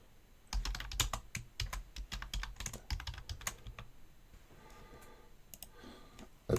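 Rapid keystrokes clatter on a computer keyboard as a team name is entered, an irregular burst of close, crisp clicks that thins out into a few scattered taps.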